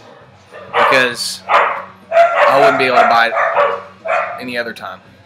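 Several pet dogs bark in short bursts close by, mixed in with a person talking throughout.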